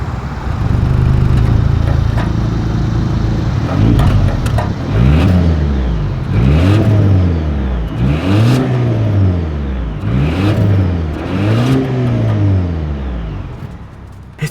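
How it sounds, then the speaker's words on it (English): A 2026 Volvo V60 Cross Country exhaust revs repeatedly, about six rising-and-falling blips of the engine over a steady idle, loud and close. "As always, here is that exhaust clip."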